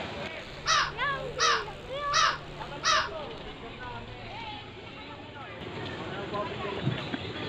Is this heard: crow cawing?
yes